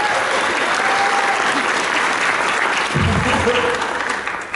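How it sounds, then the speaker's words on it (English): A convention ballroom audience at a fan panel claps loudly and steadily, a thick wall of applause with a brief voice rising partway through before it starts to taper. "just heard the applause of people in a ballroom"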